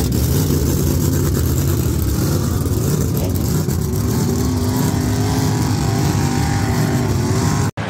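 A car engine revs hard during a burnout competition at Stafford Speedway, a loud, steady roaring drone that holds near and unbroken before cutting off abruptly at the very end.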